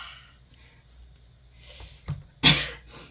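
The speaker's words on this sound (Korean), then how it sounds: "저도 냉방병 때문에 기침이 좀 나오고 있습니다" A single sharp cough from air-conditioning sickness bursts out near the microphone after a smaller throat sound, then quiet room tone.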